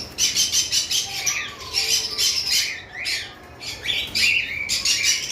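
A flock of cockatiels at a bird farm squawks in harsh, repeated bursts, with some wing flapping, all close and fairly loud.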